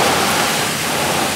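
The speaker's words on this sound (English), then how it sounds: "Extremely heavy rain!" Extremely heavy storm rain roars as a dense, constant wash of noise, loud and unbroken, heard from inside a car out on the street.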